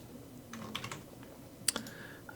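Scattered keystrokes on a computer keyboard, a few soft clicks and one sharper tap, close by and fairly quiet against faint background noise.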